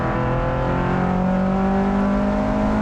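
A turbocharged Mazda MX-5 races down a track straight, its engine a loud, close, sustained drone with tones rising as it accelerates, with no talk.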